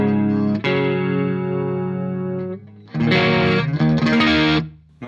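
A sustained, distorted electric guitar chord through a Marshall JCM900 amp rings out with a shimmering chorus effect, then loud strummed metal chords chug in, ending in a held note.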